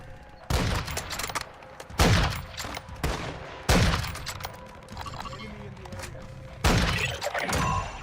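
Bursts of gunfire in the video game Call of Duty DMZ, four loud volleys of rapid shots separated by quieter gaps, with faint background rattle.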